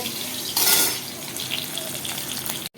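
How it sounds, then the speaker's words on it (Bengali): Steady crackling sizzle of fish frying in a pan, with a brief louder hiss partway through, continuing almost to the end. "এখানে মাছ ভাজা হচ্ছে"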